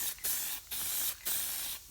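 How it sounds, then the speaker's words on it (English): Guide coat sprayed from a can onto El Camino body work, four short hissing bursts with brief pauses between them, close and fairly quiet, with no talk. "Put some guide coat on it."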